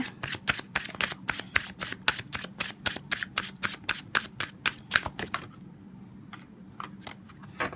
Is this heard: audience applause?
no